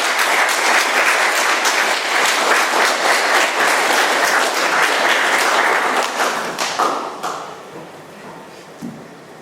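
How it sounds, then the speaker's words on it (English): Audience applause at an Alcoholics Anonymous meeting in Doylestown, Pennsylvania, a loud room full of clapping that holds steady and then tapers off into scattered claps near the end. "Let's give G another round of applause."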